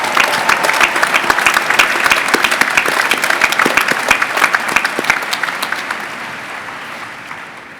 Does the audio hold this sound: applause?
yes